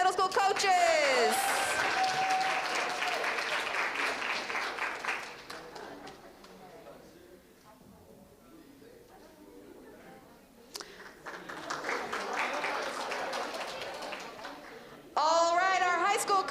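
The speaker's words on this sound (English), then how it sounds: "another round of applause for our middle school coaches" Audience applause for middle school coaches at a secondary school geography bee, clapping from a seated crowd that swells, fades to near quiet midway, then rises again, with a voice and a whistle-like squeal briefly heard.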